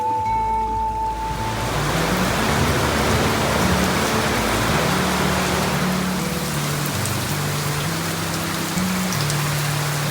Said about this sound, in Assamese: ভিডিঅ' বনাই থাকোঁতে তামাম বৰষুণ দিলা